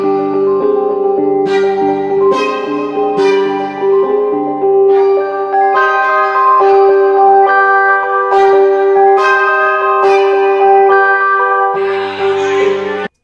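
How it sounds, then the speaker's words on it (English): Bright bell-like synth melody from the O-Gun plugin in FL Studio, a steady pattern of struck, ringing tones over a sustained low drone, loud and close with no talk. "I actually used O-Gun, which is like a super low-key FL VST with some crazy like bell kind of sounds"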